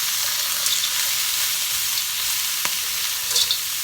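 Walnut pieces stirred in a sizzling pan, a steady bright frying hiss with a few faint scrapes of the utensil, close and continuous, no talking.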